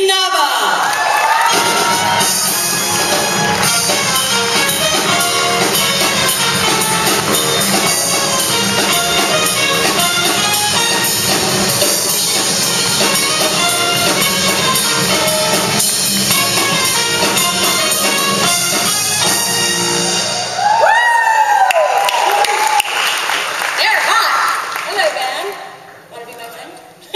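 An audience at the East West Players awards event in Hollywood cheers, whoops and yells loudly without letup, greeting a guest speaker's entrance, with a burst of extra shouting near the end before the noise fades.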